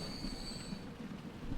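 Steady rumbling train noise from the video game's Rail & Track Industry mod, a low continuous roll with a faint high squeal fading early, distant and without talk.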